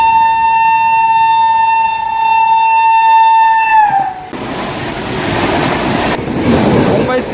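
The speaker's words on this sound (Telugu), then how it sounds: "పక్కనే గూడ్స్ ట్రైన్ ప్యారలల్ రన్నింగ్ వెళ్ళిపోతుంది." A goods train on the parallel track near Charlapalli station sounds a long, loud horn blast, then rumbles past close by with a broad, rolling roar of wagons.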